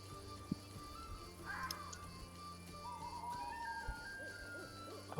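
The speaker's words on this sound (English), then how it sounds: "it's a bird in the background, not a dude screaming" A bird gives owl-like hoots in the background behind a tabletop role-playing game session, with a faint steady hum and a few soft knocks throughout.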